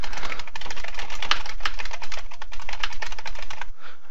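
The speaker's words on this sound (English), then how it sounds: "Type whatever text you want in" Quick, continuous typing on a computer keyboard, close and clear: a dense run of key clicks that carries on for about four seconds with no pauses and no talking.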